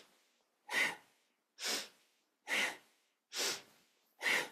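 Slow, deliberate breaths during a kundalini yoga kriya, five strong airy inhale-exhale bursts spaced evenly about a second apart, close to the microphone with near silence between them and no talking.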